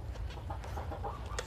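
Chickens in a backyard coop cluck in short, repeated bursts over a steady low background hum, fairly close and continuous.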